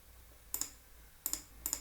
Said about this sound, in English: by clicking on this launch button